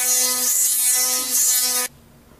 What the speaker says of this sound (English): Dave ran that 220 grit up and down that port